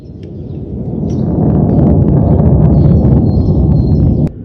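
A fighter jet's deep, steady roar rumbles in the distance, swelling and holding for several seconds before cutting off abruptly.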